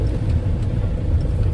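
Cars stuck in a heavy traffic jam in the rain near Panvel, a steady low engine rumble from vehicles heard close from inside a car, without voices.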